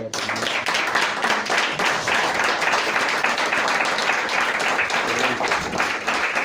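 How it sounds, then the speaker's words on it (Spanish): An audience applauds a speaker at an event, loud sustained clapping that fills the whole stretch with a steady, crowded texture. "Pues os pido un aplauso para él."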